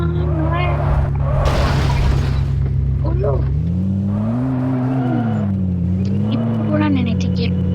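A car crash in a racing video game, with a steady engine drone shifting pitch and a brief burst of impact noise, with speech over the game sound.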